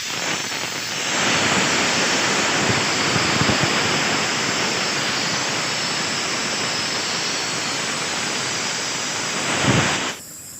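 Refrigerant from an LG 1/2 PK split air conditioner venting through a yellow hose, a loud, steady, close hiss that starts abruptly, holds evenly for about nine seconds, then cuts off.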